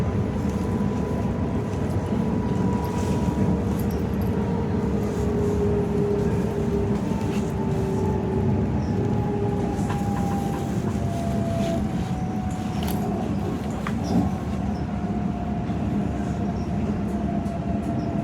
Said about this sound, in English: Here I am arriving into Maratella on the Trenitalia FL1 service.